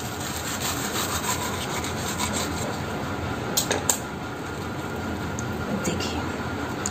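A knife saws through a crispy fried vegetable bread pocket. A steady, close rasping crunch continues throughout, with a few sharper crackles.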